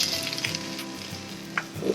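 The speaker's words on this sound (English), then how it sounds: "I love it when quesadillas make those sounds." A quesadilla filled with kimchi and cheese grills on a hot plate, giving a soft, steady sizzle and crackle with a few brief pops, fairly quiet and with no talking.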